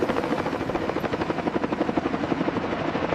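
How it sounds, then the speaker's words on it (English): Helicopter rotors spin up to full speed, a loud, steady, rhythmic chopping with broad engine roar that holds throughout without any voices. "As the rotors spin up to full speed, the world dissolves into noise and dust."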